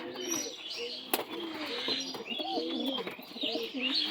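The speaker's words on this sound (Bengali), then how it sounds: "আমার বাড়ির কিছু পোষা পায়রা, এগুলো শখের পায়রা" Pet Madras pigeons coo in repeated soft, throaty phrases at close range, with light chirps and a brief sharp knock partway through against a steady background hum.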